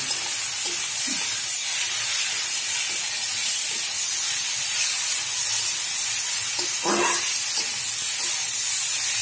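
Bengali home cooking: fried lentil dumplings (bori) go into a pan of cooking spinach, giving a steady steamy hiss throughout with a few soft clinks and stirring taps, no talking.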